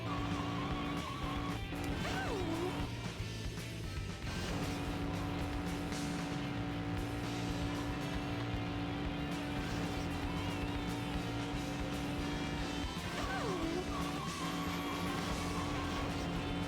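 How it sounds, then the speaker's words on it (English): A car engine in the video game Sonic Adventure 2 drones and sputters continuously under a dense, busy game soundtrack, with a couple of brief whooshing pitch swoops. "Why does the car sound like it's farting?"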